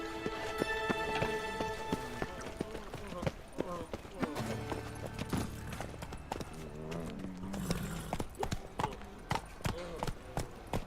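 Horse hooves clopping at a run in The Witcher 3: Wild Hunt, a steady rhythmic gallop close by, mixed with game music and voices talking over it.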